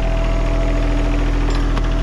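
A semi tractor truck's heavy diesel engine idles close by in a shop with a steady low rumble and faint knocking vibration, no voices over it.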